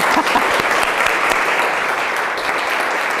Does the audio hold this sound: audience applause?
yes